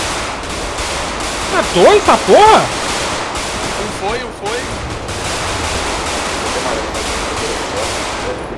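Rapid automatic gunfire rattles almost continuously in a GTA 5 roleplay shootout as police and army raid a favela, loud and dense, with someone speaking excitedly over the shots.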